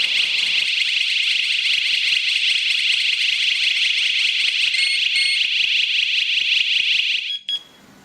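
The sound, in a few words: Chuango WS105 strobe siren alarm sounding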